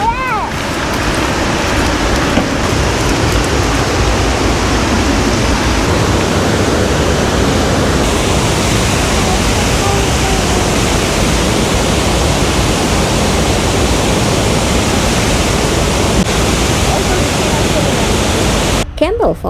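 Campbell Falls, a 15-foot series of cascades pouring into an oval pool in Camp Creek State Park and Forest, Mercer County, West Virginia, gives a loud, steady rushing roar that fills the whole clip close by.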